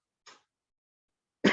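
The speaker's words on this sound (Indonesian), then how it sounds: "saya batuk, maaf" A lecturer's single brief cough bursts out sharply after a faint throat sound, close and loud in an otherwise quiet room.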